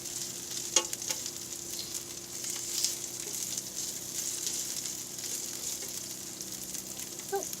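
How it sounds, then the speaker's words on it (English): Sausage sizzles in a frying pan in an RV kitchen, a steady close hiss with scattered small pops and crackles throughout. "make sure you cook your sausage all the way through"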